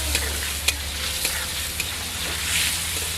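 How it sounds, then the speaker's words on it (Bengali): Mutton fat fries in hot oil with a soft continuous sizzle, broken by a few light clinks of a utensil stirring the pan, close and fairly quiet. "ভাজা হয়ে গেছে, এবার আমি তুলে নিচ্ছি।"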